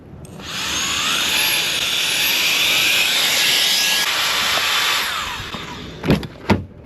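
An iRonthunder 3-in-1 air duster blower running at high speed, a loud steady high-pitched whine for several seconds that shifts tone midway, then cuts off, followed by two short knocks.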